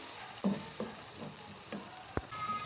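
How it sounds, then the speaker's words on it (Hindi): Chana dal fries with yogurt over a slow flame, a soft continuous sizzle broken by several evenly spaced spatula scrapes and one sharper knock near the end. "तकरीबन 2 चम्मच दही ऐड करेंगे और इसे मज़ीद तकरीबन 3 मिनट तक हम फ्राई करेंगे, अच्छी तरह से भून लेंगे"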